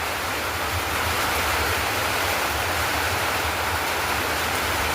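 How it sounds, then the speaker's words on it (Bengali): Heavy rain pouring steadily outside a house, a dense continuous hiss that stays at a constant level with no breaks and no voices. "দেখছেন কিরকম বৃষ্টিটা হচ্ছে, অনেক প্রচুর বৃষ্টি হচ্ছে।"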